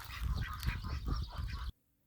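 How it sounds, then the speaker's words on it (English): A flock of backyard chickens clucking and squawking together in a dense, loud, overlapping chorus that stops abruptly. "chickens are quite adept at speaking their minds and do so whenever the urge arises"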